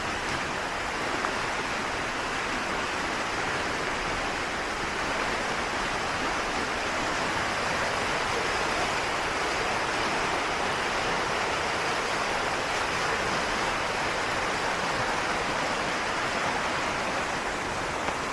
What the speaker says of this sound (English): then it dips down into sort of like almost a waterfall.